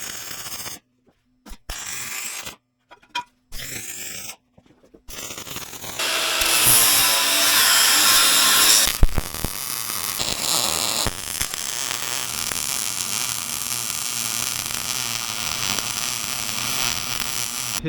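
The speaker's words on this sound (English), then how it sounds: "I'm going to weld that up, sand down the edges, and then go ahead and put the hitch on." Rough abrasive rubbing against the steel end cap of a utility trailer, with short choppy bursts that give way to a steady, loud, continuous sanding grind.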